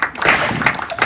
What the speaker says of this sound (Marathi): टाळ्या टाळ्या